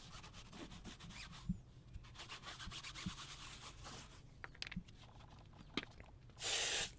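A stiff brush scrubs a tire coated in aerosol degreaser, giving quiet, irregular, scratchy rubbing strokes. A short burst of hiss comes at the end.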